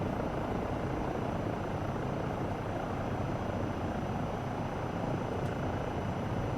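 Rotor and turbine whine of a Eurocopter EC135 helicopter in Microsoft Flight Simulator 2024, a steady loud broadband drone holding constant throughout with no talk.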